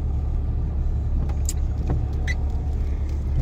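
A four-wheel drive truck drives through floodwater over a flooded driveway in southern Tennessee, a steady low engine and road rumble with a few brief splashing and clicking bits on top, close and with no talk.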